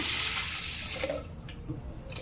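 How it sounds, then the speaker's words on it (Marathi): Water gushes steadily into a pressure cooker holding dal, a loud rushing pour that eases and turns to splashing trickles near the end, with no talking. "पाणी टाकून घेऊया"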